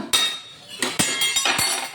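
A metal cooking pot clatters and clinks in a kitchen while chicken sukka is being made, a sharp close strike followed by several quick ringing metallic knocks in an uneven burst.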